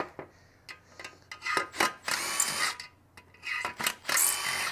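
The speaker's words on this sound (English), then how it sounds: "I'm going to take the muffler off first." The muffler is taken off a Stihl BR 600 backpack blower with a leaking engine pan, giving close scraping, rubbing and short tool whirs with knocks in between, no talking.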